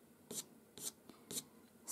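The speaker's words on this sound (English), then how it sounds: "scratching over the paper, using less pressure again" A pastel pencil scratches quickly over paper while drawing cat fur, four short light strokes spaced about half a second apart, close and quiet with no talk.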